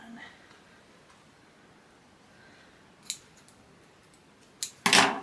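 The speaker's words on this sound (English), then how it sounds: "fight with my scissors and cut that" Scissors snip through paper while a mini album is being made, with a faint snip midway and a few quick, close, crisp cuts at the end over quiet room hiss.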